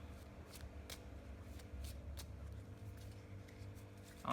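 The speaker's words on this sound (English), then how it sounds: "I can't do the riffle shuffling thing." A deck of Lenormand cards is shuffled by hand, soft quick papery flicks repeating in an uneven rhythm, close and quiet, ending in a slightly louder riffle.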